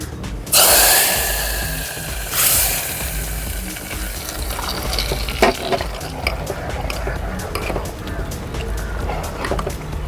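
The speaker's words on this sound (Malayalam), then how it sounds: "കടു താളിച്ചതിനകത്തോട്ട് ഒഴിക്കുകയാണ്" A sharp hiss and crackle bursts out as hot oil with mustard seeds is poured into jackfruit and coconut curry, followed by a second sizzle and lingering bubbling and stirring clatter.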